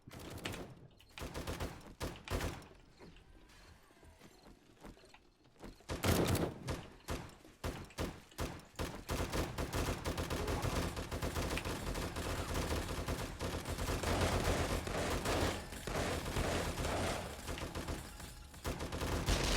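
Turrets firing during horde night in the video game 7 Days to Die, dense rapid automatic gunfire that starts in bursts, pauses briefly, then roars continuously and loud for most of the stretch.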